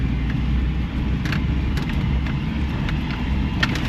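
A 1983 Toyota Pickup SR5 engine rumbles low and steady while driving on a dirt riding spot, a continuous close drone with faint rattles and ticks over it.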